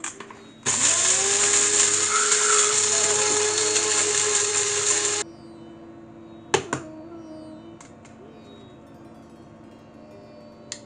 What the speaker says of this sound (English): when I grind the spice, I actually add a little bit of salt